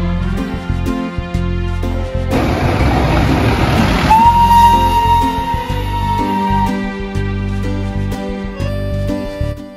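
The Darjeeling toy train rumbles along with steady mechanical noise, and a loud burst of its whistle or horn rings out midway, leaving a lingering tone.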